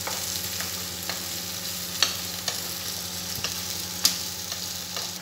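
Sliced onions and curry leaves frying in a pan while being stirred, giving a soft continuous sizzle with a few faint scraping strokes and light clicks of the spoon, fairly quiet and with no voices.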